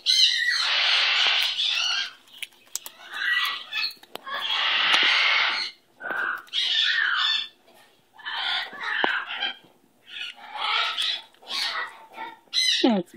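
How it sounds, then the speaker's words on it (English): Pet bird squawking repeatedly at close range, loud harsh bursts in irregular runs with short pauses, perched on a person's arm. "That's my Bogie bird"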